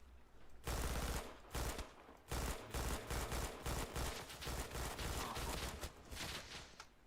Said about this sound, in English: that's a machine gun that's standing 51 meters away, and he's just hip firing that